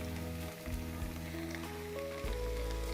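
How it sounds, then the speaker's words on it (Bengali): Ginger and garlic paste frying in a pan for a Bengali beef bhuna curry, giving a steady, fairly loud sizzle that runs without pause, with a few stir clatters mixed in and nobody speaking. "নেড়েচেড়ে আদা রসুনের পেস্টটাকে কিছুক্ষণ ভেজে নিব, যাতে করে আদা রসুনের কাঁচা গন্ধটা থেকে না যায়।"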